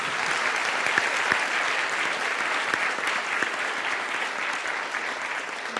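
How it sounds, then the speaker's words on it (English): An audience at a climate change and energy policy talk applauds, a dense, steady clapping from many hands that carries evenly for several seconds. "applause. It's always welcome."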